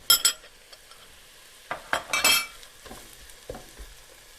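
Chopped onion fried in cooking oil in a pan gives a low sizzle under bursts of stirring and clinks of a utensil against the pan, close-up and intermittent.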